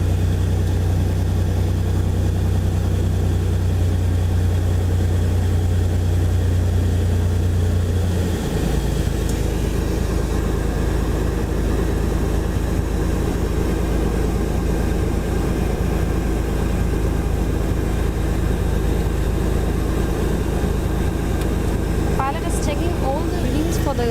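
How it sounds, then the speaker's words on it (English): A Cessna 206H engine running during a ground run, a loud steady drone that shifts to a broader, heavier roar partway through, with a voice talking over it. "Today we'll experience the flight of Cessna 206H"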